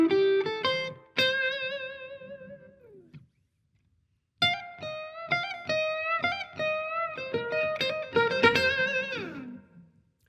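A slow blues guitar lick played alone on an overdriven electric guitar: sustained bent notes, a short pause, then a busier run of picked notes ringing out.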